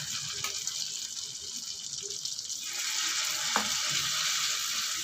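Eggplant omelette with corned tuna and tofu sautéing in a pan, a steady sizzling fry that gets louder and denser partway through, with a brief clink of a utensil near the end.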